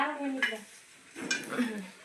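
An iron tawa is set onto a wood-fired stove with a couple of sharp metallic clanks and knocks over a faint background, with a voice murmuring lightly.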